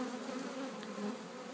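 Honeybees buzz steadily at spring hives, a continuous close drone with a low hum and no voices, holding even loudness throughout.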